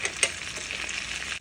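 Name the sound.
minced garlic sizzling in melted butter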